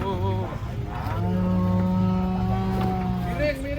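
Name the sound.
giant cow mooing while being unloaded from a truck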